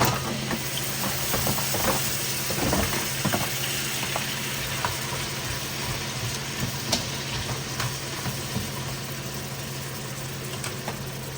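Snow crab legs and vegetables sizzle in a pan for a Caribbean seafood vermicelli stir fry cooked in a hotel room, a steady close frying hiss with a low hum and occasional clinks beneath.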